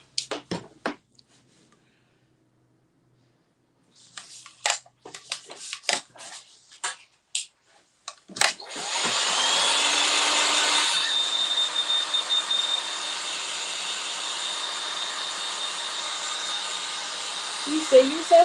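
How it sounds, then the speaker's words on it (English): A heat gun switching on and running with a steady loud whooshing blower hiss for several seconds, its tone dropping slightly partway through, after a stretch of light clicks and handling noises. "I want to use my heat gun real quick"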